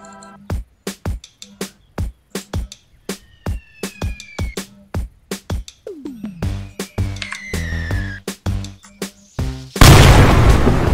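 A rapid series of loud, booming mortar explosion blasts in the synthetic soundscape of the game Arma 3, with whistling incoming shells, ending in a heavy roaring burst.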